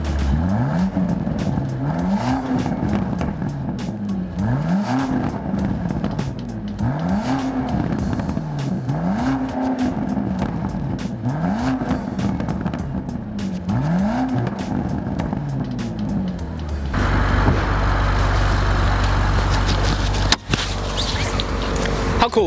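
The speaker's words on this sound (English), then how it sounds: "This thing is one of the best sounding cars out on the market today." 2025 Range Rover Sport SV Edition Two with a 626-horsepower engine revving loudly and repeatedly, each rev rising and falling in a steady rhythm, then settling into a deep, heavy idle rumble near the end.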